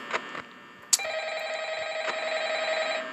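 Telephone ringing in the horror game Five Nights at Freddy's: a couple of soft clicks and a sharp tap, then a steady electronic ring tone that sustains at moderate loudness to the end.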